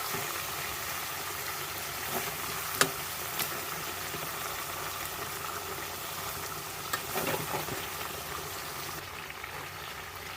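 Ground spice paste for chicken biryani frying in a pan, a steady soft sizzle and bubbling across the whole stretch with a couple of brief clinks of a utensil, no talk.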